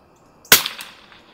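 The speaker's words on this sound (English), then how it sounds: "Let's shoot a couple sighters at the box there." A single shot from a Remington 513-T rimfire target rifle with a 14x Unertl scope and CCI Standard Velocity ammunition, fired outdoors after dark at a box: one sharp, close crack with a short fading tail and no talk.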